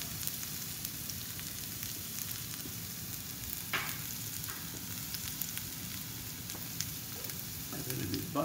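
Garlic sautéing in a pan, a continuous close frying sizzle with scattered crackles and stirring scrapes running steadily throughout, no voices.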